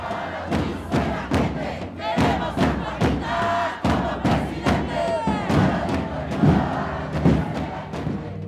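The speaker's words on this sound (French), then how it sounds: "À sa sortie du Congrès, la foule l'acclame, avec un seul mot sur les lèvres" A crowd roars and cheers in acclaim for a municipal candidate as she leaves Congress. The sound is loud, dense and sustained, with rhythmic thumps and surging shouts.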